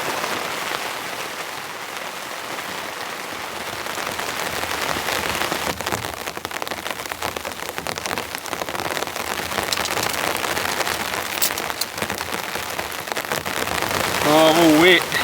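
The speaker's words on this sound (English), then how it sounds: "I think it's sleeting now. Ice rain falling from the heavens." Steady patter of sleet and rain hitting surfaces close by in the mountains, a dense crackling hiss that grows slightly louder toward the end.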